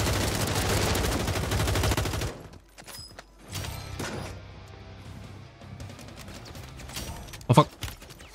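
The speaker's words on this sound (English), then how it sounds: "Taking effective fire." Rapid automatic gunfire in a video game, a loud burst of dense shots followed by quieter scattered shots and clanks, with a sharp crack near the end and voices talking.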